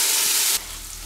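Chopped leek tipped into a hot pan of vegetables for a pumpkin cream soup, giving a loud broadband sizzle and frying hiss that drops to a softer steady crackle partway through.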